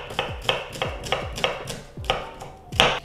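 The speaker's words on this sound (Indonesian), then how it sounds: "kita akan potong bombay dan juga bawang putih" Onion and garlic are finely chopped with a knife on a board: about nine crisp, close knocks in a quick, slightly uneven rhythm, with no talking.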